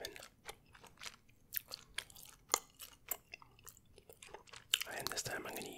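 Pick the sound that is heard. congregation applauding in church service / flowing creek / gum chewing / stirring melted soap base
gum chewing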